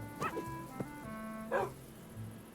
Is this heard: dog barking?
yes